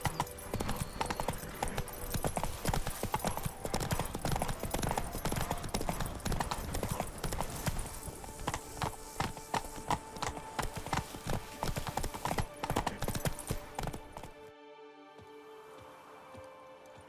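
Horse hooves clip-clopping at a steady riding pace in The Witcher 3 video game, dense and continuous over outdoor ambience and music, then stopping near the end as a soft background lingers.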